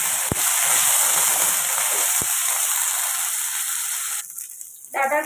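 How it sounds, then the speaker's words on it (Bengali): Cut stalks for a vegetarian bori-data-potato dish sizzle in hot oil while being stirred, a dense, even hiss with a couple of sharp clicks that suddenly dies down near the end and is followed by faint clattering. "ডাঁটাটা একটু তেলে নাড়াচাড়া করে নিয়ে"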